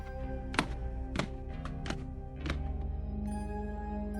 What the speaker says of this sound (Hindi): तभी उन्हें किसी की सीढ़ियां उतरने की आवाज आई